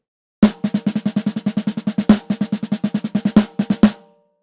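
A snare drum captured by two blended microphones through a Neve Portico 5017 preamp plays rapid, even strokes broken by several louder accented hits, crisp and close, ending in a short ring-out, with no voices.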